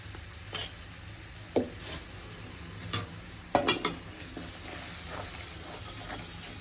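Masala with chili powder sizzles steadily in a hot pan for an Andhra fish curry, with a spoon scraping and stirring in a few distinct strokes over the constant frying hiss, close and clear with no talk.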